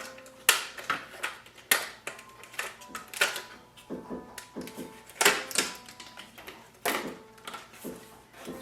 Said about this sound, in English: Remove the plastic packaging.